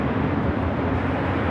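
Continuous broadband roar of a VistaJet Global 6000 business jet landing at LAX, loud and steady throughout with no talk.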